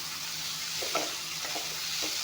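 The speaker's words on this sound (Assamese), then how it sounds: "এতিয়া অলপমান লাৰি দিম, যিহেতুকে নিমখখিনি দি দিছোঁ।" Fish and beans stirred in a pan after salt goes in, with a steady sizzle and a few soft scraping strokes close by.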